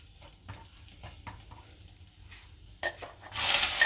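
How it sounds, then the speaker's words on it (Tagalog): Ginger, onion and garlic being sautéed in hot oil, with faint stirring scrapes at first and then a loud burst of sizzling near the end. "init ng mantika, igigisa na natin itong ating mga pangpalasa. Luya, sibuyas, bawang."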